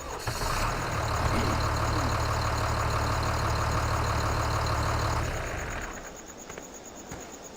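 Tractor engine idling in Farming Simulator 2013, a steady low diesel rumble with a faint high whine that holds for about five seconds, then drops away to a quieter background.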